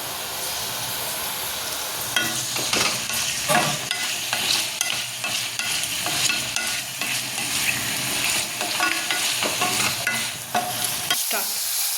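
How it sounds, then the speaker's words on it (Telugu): Paneer pieces fry in a pan for a masala curry, a steady close sizzle running throughout with scraping stir sounds and occasional clatter of the spatula, no talking. "ఇప్పుడు వీటిని మనం జస్ట్ ఎక్కువసేపు వద్దు, ఒక కొంచెం లైట్ కలర్ మారే వరకు మనం బాగా ఫ్రై చేసుకోవాలి"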